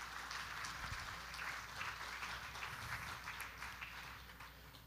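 Audience applause at a church gathering, a soft, steady wash of clapping from a fairly distant crowd that holds for several seconds before easing slightly.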